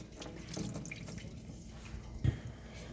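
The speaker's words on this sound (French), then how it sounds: "On va jeter l'eau maintenant." Water is poured out into a kitchen sink while seafood spaghetti with vegetables is being prepared, a short splashing gush with a brief louder splash near the end.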